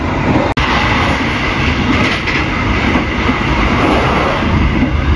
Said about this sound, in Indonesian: Entah kereta api apa ya